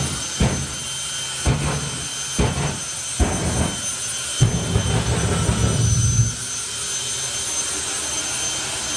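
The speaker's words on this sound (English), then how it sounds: "it's only going to get louder from this moment forwards as he starts to line the jet up the track" Jet dragster engine at an FIA/FIM drag racing event, roaring with a steady high whine and several sharp bursts and thumps, swelling into a louder rumble before easing, heard from nearby.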